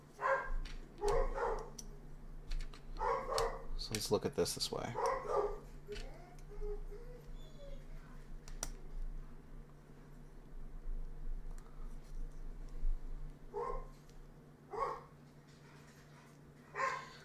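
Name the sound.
dogs barking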